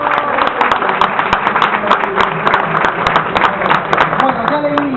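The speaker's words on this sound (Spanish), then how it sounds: "Fuerte aplauso para César" Applause for César at a book fair: a dense, steady patter of many hands clapping close by, continuing evenly throughout.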